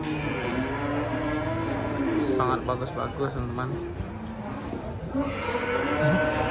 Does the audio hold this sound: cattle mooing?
yes